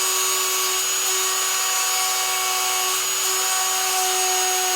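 A steady, high-pitched whining drill runs continuously, grinding into sea glass with a constant tone and no pauses, fairly loud and close.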